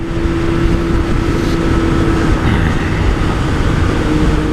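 Close and loud, a 1998 Suzuki Bandit 600N four-cylinder motorcycle with rebuilt carbs rides off, its engine droning steadily for several seconds with little change in pitch and no talking.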